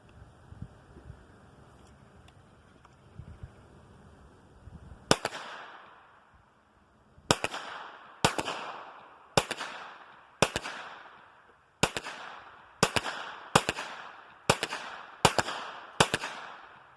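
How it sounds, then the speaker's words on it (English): About eleven pistol shots ring out at a 25-yard outdoor range: one sharp crack after a quiet start, then a steady string of loud reports about a second apart, each trailing off in a short echo. "we'll shoot at 25 yards and see which I would prefer to have if I only had 11 rounds to shoot"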